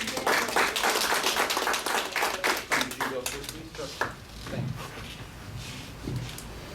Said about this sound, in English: can we have a round of applause for our candidates?